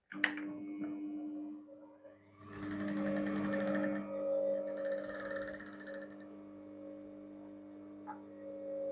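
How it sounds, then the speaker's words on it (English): A sewing machine stitching trousers, a steady mechanical whirring hum in two runs after a short pause, fairly close and alone. "So now I'm going to stitch this."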